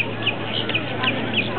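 Seagulls squawk in quick repeated calls at the seaside, close and loud against wind and background noise.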